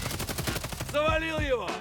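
Gunfire in the online shooter Hired Ops: a rapid run of sharp automatic shots in the first second, then a few heavier bursts ringing out over a tonal in-game hum.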